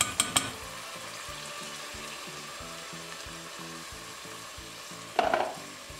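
A rice filling with onion and tomato paste sautés quietly in a pan, a soft low sizzle with a few sharp spoon scrapes at the start and another burst of stirring near the end, over a steady rhythmic background beat.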